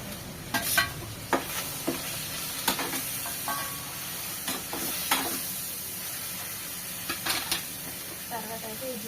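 Chopped tomato pieces fry in a pan with a steady low sizzle, broken by repeated scraping stir strokes and a few clinks of the utensil against the pan near the end, heard close up with no talk.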